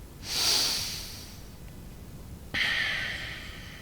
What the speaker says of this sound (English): All right, one more breath here.